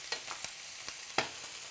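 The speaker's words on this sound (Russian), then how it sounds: "Выкладываем на сковороду гриль, она сразу должна шипеть." Chicken pieces laid onto a hot grill pan hiss and sizzle faintly, with several short scraping or stirring bursts spaced irregularly over the steady frying noise.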